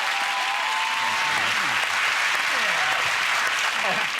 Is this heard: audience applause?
yes